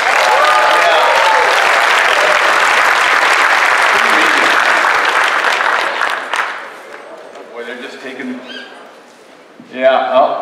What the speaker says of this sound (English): Let's do applause.